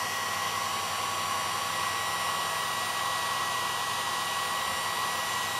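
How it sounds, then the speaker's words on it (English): A heat gun set on low blows with a steady, even whoosh and a faint whine, warming encaustic wax and oil paint close by for the whole stretch, with no talking. "my heat gun's got a little thing on the back, you can turn it higher or lower"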